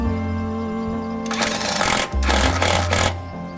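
A power tool, likely an impact wrench, tightens the top mount nut of a new shock absorber, giving two loud, close bursts of rapid hammering over a steady background hum.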